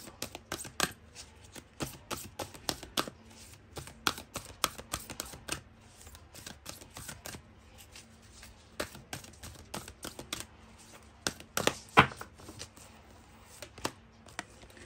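Tarot cards being shuffled and drawn in a reading, heard as dense, quick papery flicks and snaps over about fifteen seconds, close and fairly quiet, with no talk.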